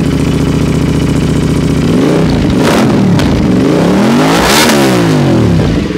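An Aprilia RS 457 motorcycle fitted with an aftermarket Akrapovic-style exhaust idles loudly up close, then revs repeatedly in rising and falling blips, with a raspy, crackling exhaust note.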